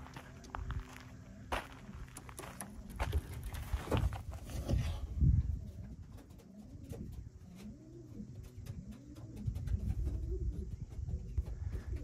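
Racing pigeons arrive at the loft, with soft cooing, wingbeats and scuffling footsteps close by in a quiet setting. Light rustles and pecking continue throughout.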